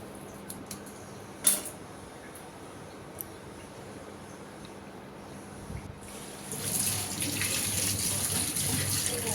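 Tap water running while fish is washed, a faint trickle at first that swells into a steadier, louder gush of running water in the last few seconds.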